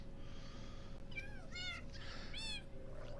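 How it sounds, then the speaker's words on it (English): Several cats meow in Minecraft, a few short rising and falling calls in quick succession over a steady low background hum, fairly close and clear, with no talking. "Quiet, kitties."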